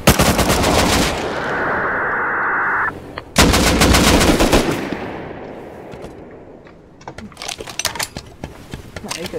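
Automatic AK rifle fire in a multiplayer video game, loud rapid bursts of shots with brief pauses between them, continuing in short clustered volleys toward the end.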